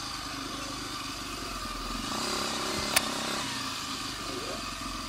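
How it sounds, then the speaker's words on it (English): A tractor engine runs at a steady moderate level outdoors near a puddle, a low mechanical rumble with a brief sharp click partway through. "There's a tractor here."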